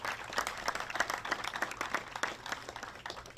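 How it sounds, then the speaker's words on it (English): An audience at an official press announcement claps, with distinct individual claps standing out in an uneven, fairly close patter that continues throughout. "Give yourselves a round of applause for stepping up and making a difference"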